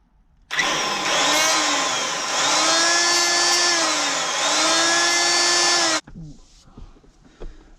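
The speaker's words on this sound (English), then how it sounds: "I'm just using my little cutoff wheel, cut it pretty fast" A small cutoff wheel trims a metal tab off an S10 digital dash being fitted to a 1987 Buick Regal T Turbo, one loud continuous whining grind of about five seconds that stops abruptly.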